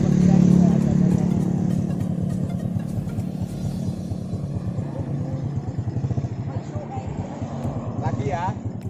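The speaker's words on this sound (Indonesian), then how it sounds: "Kita cukup gas sedikit maka motornya udah langsung jalan." A motorcycle pulls away on light throttle, a low rumbling engine that settles into a steady chugging idle-like putter, with someone talking over it throughout.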